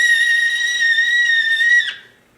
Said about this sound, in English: So the tea kettle is whistling, thus it must be really hot.